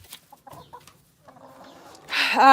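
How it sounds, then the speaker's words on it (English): Soft scattered noises give way to loud, close chicken clucking and squawking near the end, inside a barn tack room. "get the chickens out of the tack room"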